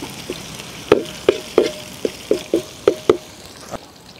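Ginger, spring onion whites and chopped shallots fry in a pan for restaurant-style chilli chicken, with a string of sharp, close spatula knocks about every half second over a faint sizzle.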